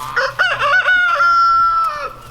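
A rooster crows loudly nearby, a long drawn-out cock-a-doodle-doo that trails off, with faint clucking from other chickens around it.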